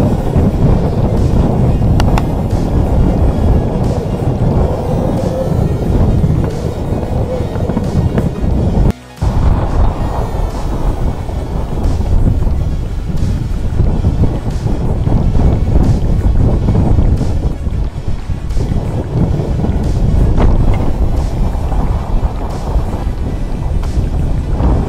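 A hove-to sailboat in a summer gale between Menorca and Sardinia, with loud, continuous wind buffeting the microphone and heavy rushing waves surging around the hull, plus one brief dropout partway through.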